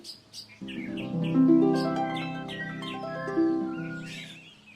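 Cartoon sound effect of a small bird, bright tweeting chirps and short trills over a sustained musical backdrop, clear and close, no speech.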